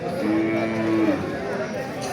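A cow gives a drawn-out, fairly close moo at a busy cattle market in Bangladesh, with faint crowd murmur in the background.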